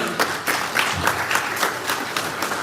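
A crowd claps steadily for a rapper at a live event, the applause dense and fairly loud throughout with a voice faintly underneath.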